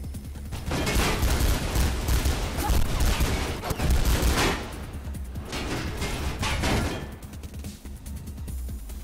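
Heavy gunfire bursts out in Mirror's Edge, dense rapid shots and crashing impacts in several loud waves that swell, ease and return.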